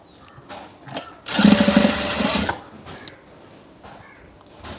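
Sewing machine stitching the bottom hem of a churidar pant leg, one close burst of fast, steady mechanical whirring lasting about a second, surrounded by quiet handling of the fabric.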